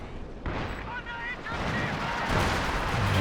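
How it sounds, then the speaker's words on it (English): Artillery fire in Company of Heroes 2 during a 4v4 match, heavy shells landing on infantry as a dense, rumbling barrage of booms that swells and rolls on under constant battle noise. "Now some artillery starting to come down on Ash's troops."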